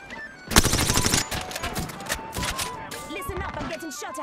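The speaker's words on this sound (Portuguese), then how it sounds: "Listen up, I'm getting shot at." Gunfire hitting the player in a ranked Apex Legends match, rapid automatic bursts loud and close, starting abruptly and crackling on with sharp shots and clatter while voices talk over it.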